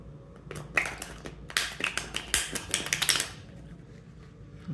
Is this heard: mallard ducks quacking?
no